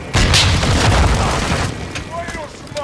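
Loud gunfire and a booming blast as players shoot at a target in Warzone 2, heavy impacts up front, then fading rumble with faint electronic chirps near the end.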